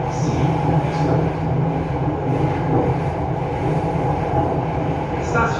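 An MRT Jakarta subway train runs into Lebak Bulus station, the end of the line, with a steady loud low rumble of wheels and carriage throughout and faint brief squeals near the end.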